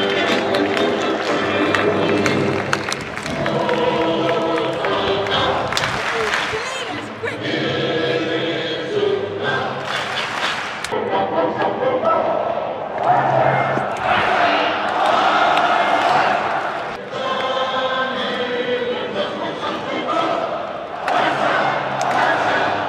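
A football crowd inside Barcelona's stadium roars and chants as the match kicks off, a dense, continuous wall of cheering voices with swelling peaks and no break.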